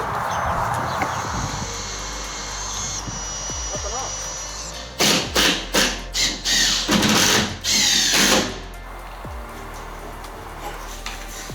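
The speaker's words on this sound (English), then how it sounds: "where I'm drilling these holes, they can be, you know, I can put them where I want as such" Power drill boring holes while a staircase is fitted, giving a run of about seven short, loud whirring bursts in a steady rhythm, with quieter background noise before and after.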